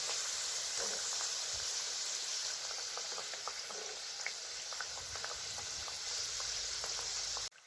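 Wheat-flour biscuits frying in hot oil on a low flame give a steady, dense sizzle with scattered crackling pops, close and even throughout before cutting off abruptly at the end.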